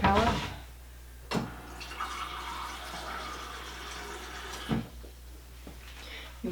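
Water pours from a tap into a cup in a home kitchen, a close trickling fill with a few sharp clinks and knocks between splashes.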